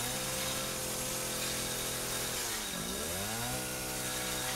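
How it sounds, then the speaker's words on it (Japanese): A chainsaw from the video game Resident Evil 7 buzzes in a steady, loud drone throughout, its engine pitch dipping sharply and then revving back up near the end. "チェーンソーで無双していこう"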